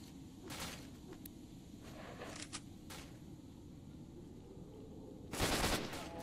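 Automatic AK rifle fire in the shooter game S.T.A.L.K.E.R., a few short bursts over steady low background noise, with the loudest burst arriving near the end.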